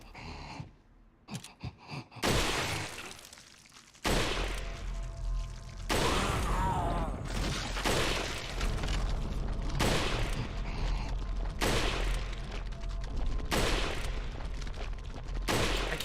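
Gunfire in the video game Resident Evil 4, a string of loud repeated shots with boomy reports and ringing tails, firing in bursts after a brief quiet start, with no talking over them.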